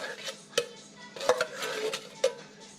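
Canned Boston baked beans with their sauce being stirred in a pot, a spoon scraping and knocking against the metal in several distinct clinks amid soft, wet stirring, close and moderately loud.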